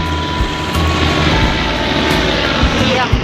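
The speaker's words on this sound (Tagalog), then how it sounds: "Nakasabay din yung helicopter." A helicopter passes overhead with a loud, steady engine drone that fills the whole stretch while people talk beneath it.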